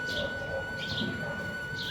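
A small bird chirps inside a house in India, several short high tweets at a moderate distance over a constant low background hum.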